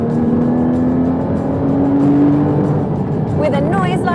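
Engine note of a 2015 Porsche Cayman GT4 revving and pulling hard, a steady loud drone climbing in pitch, with a higher whining rise near the end as revs build.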